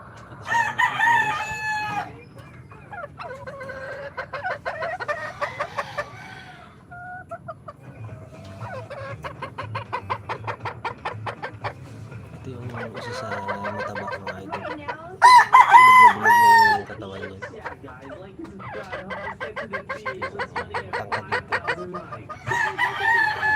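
Pet chickens cluck steadily while roosters crow loudly several times, one crow standing out near and strong midway, the flock noise continuing throughout with no talking.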